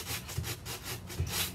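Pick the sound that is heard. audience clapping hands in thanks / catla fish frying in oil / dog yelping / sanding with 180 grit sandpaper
sanding with 180 grit sandpaper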